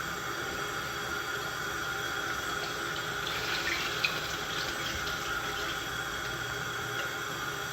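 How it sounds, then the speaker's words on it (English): Water runs steadily from a tap into a pot of brown stew chicken, a constant close-up rushing splash with no one speaking over it. "Add some more water, just enough to cover the chicken"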